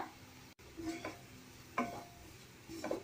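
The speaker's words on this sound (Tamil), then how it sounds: "மிளகாய் சாட் மசாலா தனியா கரம் மசாலா அப்புறம் மஞ்சள் தூள் சேர்த்துட்டு நல்லா மிக்ஸ் பண்ணிக்கோங்க" Masala powders being stirred into sautéed vegetables in a pan for a veg sandwich filling: soft scraping strokes over a low sizzle, with a few distinct spoon-against-pan scrapes spaced about a second apart, quiet and close.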